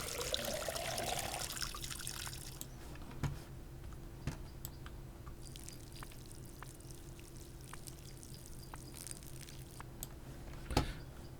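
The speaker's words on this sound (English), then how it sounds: "Let's fill up our watering can." In the video game Schedule I, water pours into a watering can in a short gurgling rush, then falls to a quiet backdrop of scattered clicks and taps from a keyboard, with one louder knock near the end.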